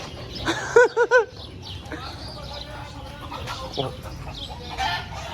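A quick burst of three loud clucking calls from a nearby rooster, followed by quieter scattered sounds over a steady outdoor background.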